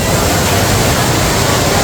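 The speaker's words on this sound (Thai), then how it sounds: "มาดูน้ำตกจากชั้นบน" Indoor waterfall fountain at the ICONSIAM shopping mall in Bangkok, heard from an upper floor: a loud, steady rush of falling water that fills the whole stretch without a break.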